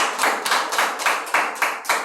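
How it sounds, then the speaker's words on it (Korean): A church congregation claps for a pastor in slow, evenly spaced unison beats, about eight sharp claps in a steady rhythm, with no talking over them. "우리 김인수 목사님께 큰 박수 부탁드립니다."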